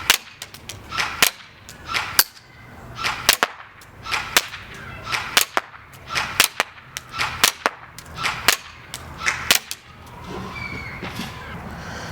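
A Dboys RK01 AMD-65 airsoft rifle firing on a shooting test, a series of sharp snapping shots at irregular spacing, about a dozen crisp cracks with faint handling and background noise between them.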